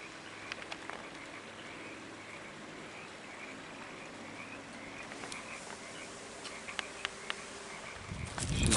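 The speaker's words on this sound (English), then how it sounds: "Hear the frogs and the creek down below." Frogs croak in a dense, steady chorus near a creek below, a continuous outdoor wash of calls with occasional sharper clicks and a louder rustle at the very end.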